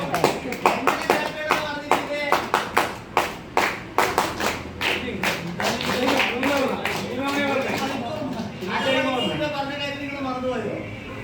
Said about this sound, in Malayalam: താളാത്മകമായി ക്ലാപ്പ് ചെയ്യണമെന്ന് പറഞ്ഞേ